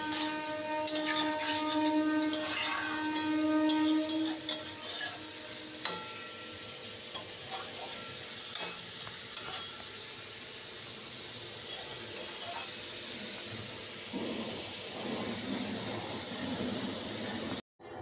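Broccoli and mixed vegetables being stirred in chilli sauce in a pan, a steady soft scraping and sizzling with occasional clinks of the utensil against the pan, close and continuous.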